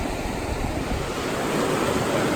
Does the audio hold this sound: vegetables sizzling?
no